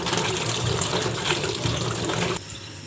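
Water running and splashing over cut potatoes as they are rinsed for fries, a loud steady broadband gush that cuts off sharply near the end, leaving quieter dripping and trickling.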